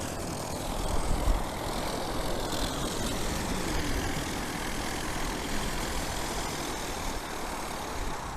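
At North Weald airfield, aircraft engines idle before shutting down, a continuous broad drone and rumble at moderate distance, roughened by strong wind buffeting the microphone.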